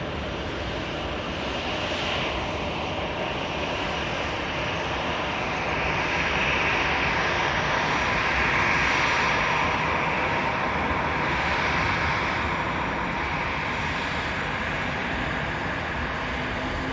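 An EasyJet Airbus A320 at Manchester Airport roars with sustained jet engine noise, swelling slightly toward the middle and holding loud and close throughout, with no talking over it.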